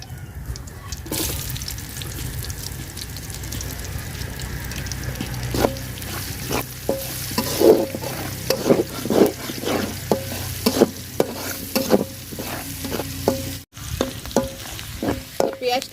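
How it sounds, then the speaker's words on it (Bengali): Chopped onions frying in leftover fish-frying oil for a prawn and cauliflower curry, a constant sizzle under repeated scraping stirs of a spatula in the pan, close and busy, with no voices. "পেঁয়াজটা লাল লাল করে ভাজা নিছি"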